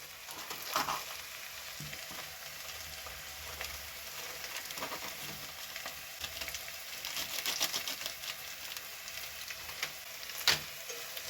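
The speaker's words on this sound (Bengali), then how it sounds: "মিট মশলা দিয়ে এটাকে ভালো করে নাড়িয়ে নেবো" Chicken cooking with meat masala in a pan, a close, continuous sizzle of frying overlaid with irregular clicking and scraping strokes as the mixture is stirred, with no talking.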